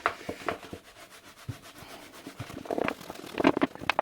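Scrubbing label residue off a glass jar produces repeated close rubbing and scraping strokes in an uneven rhythm. The strokes grow louder and denser toward the end, with no voices.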